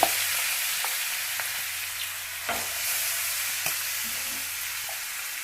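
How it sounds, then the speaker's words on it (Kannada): Green chilli paste frying in oil makes a dense, steady hiss close by, broken by a few soft scraping stirs of a spoon in the pan, with no talking. "ಇದಕ್ಕೆ ಎಣ್ಣೆ ಒಳಗೆ ಚೆನ್ನಾಗಿ ಹುರ್ಕೋಬೇಕು"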